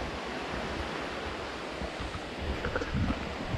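Water of a brook flowing steadily along a New Hampshire hiking trail, a continuous broadband wash close by, with a few louder low thumps near the end.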